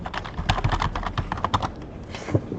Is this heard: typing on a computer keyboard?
yes